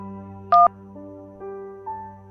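A telephone keypad plays a short run of dialing tones, one sharp louder beep followed by several softer sustained tones in steps, with a continuous low hum underneath and no voices.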